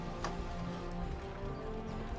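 Horse hooves clip-clop steadily in a tabletop role-play session set around an imperial tournament, a faint, even trotting rhythm under a dense, continuous background bed.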